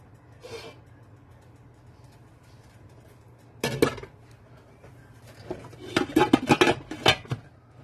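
A metal lid clatters onto a cooking pot of simmering fideo, with a sharp clank midway and then a quick cluster of rattling, scraping metal knocks, close and fairly loud over a quiet low hum.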